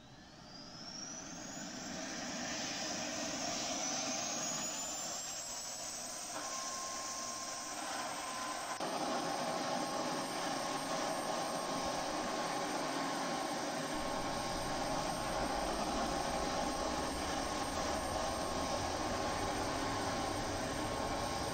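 An F-16 jet engine starts up in the Falcon BMS flight simulator: a whine climbs steadily in pitch and then settles into a loud, sustained turbine roar that continues to the end.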